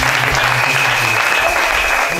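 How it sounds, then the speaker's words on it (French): Loud, sustained applause fills a church congregation during a Sunday school service, a dense wash of many hands clapping steadily throughout with no pauses. "Ici, je voudrais que nous puissions applaudir très fort."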